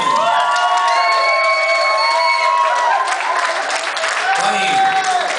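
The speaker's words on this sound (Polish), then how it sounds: "Są, są, macie duże brawa dla nich." A crowd at a stage show applauds and cheers performers, with whoops and children shouting, loud and continuous, while voices and tonal calls rise over the clapping throughout.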